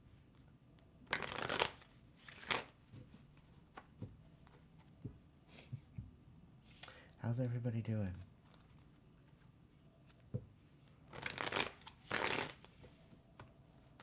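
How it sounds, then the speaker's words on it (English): Playing cards are shuffled in several crisp, rustling bursts spread across the recording, close and fairly loud, with a person talking briefly between them. "I'm just shuffling away, waiting for a good message to come through."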